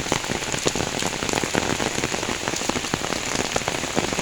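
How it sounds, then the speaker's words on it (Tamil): Heavy rain pours steadily on a road near a school, a dense, continuous hiss of drops spattering close by, with no voices. "அவ்வளோ மழை பெய்யுது"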